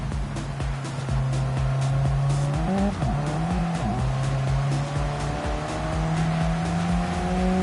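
A race car brakes hard at Suzuka in a racing video game: a loud, close engine drone shifts pitch through downshifts, tires squeal and skid, and the engine builds again as it accelerates away.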